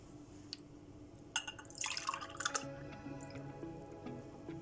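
Homemade sour cherry compote juice poured over sugared quinces in a pan, a soft trickling splash building in the middle and then thinning to light drips, fairly quiet and close.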